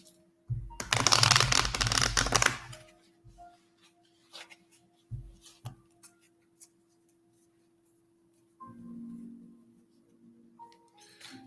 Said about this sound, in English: Give the deck a shuffle.